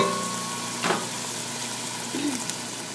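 Onions and peppers frying in a pot over medium heat for Cuban oxtail stew, a steady hiss of sizzling with one brief stirring scrape near the start, close and without talk.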